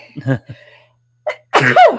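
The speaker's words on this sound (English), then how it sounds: "I'm going to sneeze" A person gasps and breathes in a few short bursts, then lets out a single loud, close sneeze.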